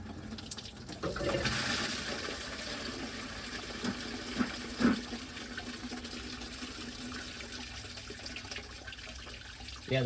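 Coolant pours steadily from a Ford F100 cooling system into a drain pan, a continuous splashing, gurgling flow close by with a couple of brief knocks.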